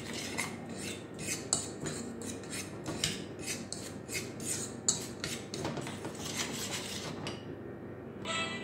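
A metal utensil scrapes and clinks briskly against a bowl while mixing banana fritter batter with sugar, cinnamon and food color, a steady rhythmic stirring that stops near the end.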